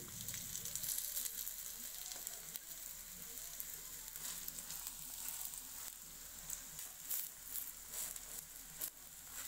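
Crispy Malabar spinach leaf fritters (pui patar bora) sizzle and crackle steadily in hot oil, a close, continuous frying hiss with small pops scattered through it and no talking.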